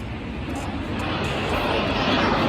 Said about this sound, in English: Airplane, airplane.